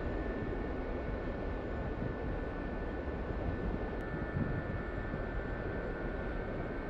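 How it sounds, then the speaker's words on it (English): Gazelle SA342M helicopter in the DCS flight simulator, a steady, loud, continuous rotor and turbine drone holding evenly throughout with no voices over it. "Yeah, I kind of like this little agile helicopter."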